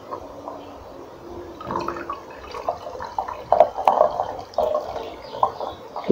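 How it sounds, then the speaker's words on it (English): Tamarind wine mixture is poured through a sieve, giving irregular drips and trickles of liquid that build and thicken toward the end, close and moderately loud with no talking. "So I want us to sieve our content."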